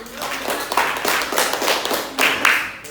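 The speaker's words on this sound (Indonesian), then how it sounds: "Tepuk tangan." A short burst of scattered hand claps in a classroom, several people clapping unevenly for a few seconds, moderately loud and close.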